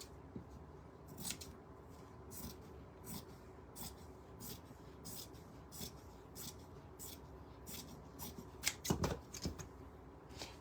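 Scissors snip through fabric while trimming pieces for a kite, a quiet series of regular crisp cuts repeating about every half second, close and alone, with some handling rustle near the end.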